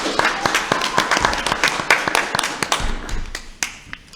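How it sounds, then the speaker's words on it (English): A crowd applauds steadily for several seconds, many hands clapping at once with sharp, dense claps close by and no talk. "let's give a round of applause for all of our candidates"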